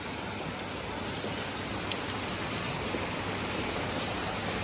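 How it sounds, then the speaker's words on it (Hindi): Heavy rain in Madanapalle, India, a continuous broadband wash of falling water with a few faint drip ticks, steady and unbroken for the whole stretch. "शाम तक या कल तक ऐसी लगातार बारिश होगी ना तो बहुत अच्छा होगा"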